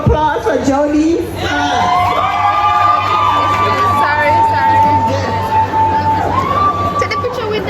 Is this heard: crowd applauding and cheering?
yes